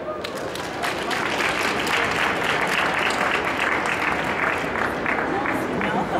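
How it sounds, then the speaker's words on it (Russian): Audience applause at a fashion festival forum in Tolyatti, a sustained, even wash of clapping from a large crowd, steady and loud throughout. "подходит только под бурный аплодисмент"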